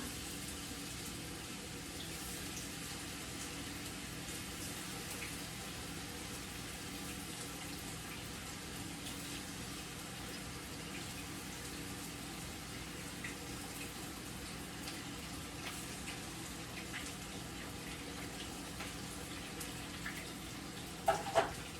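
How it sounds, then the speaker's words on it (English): Beef tips sear in a hot pan, giving off a steady, faint sizzling hiss that carries on evenly with no talking, ending in a couple of small clicks. "I'm putting the tips in to sear right now."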